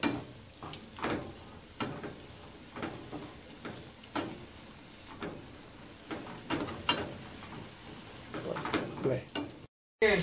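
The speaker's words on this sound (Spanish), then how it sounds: "Y vamos a mover para que se incorpore la sal." Mushrooms cooking in a pan after salt is added, stirred with repeated scraping strokes in an uneven rhythm over a low sizzle, close by.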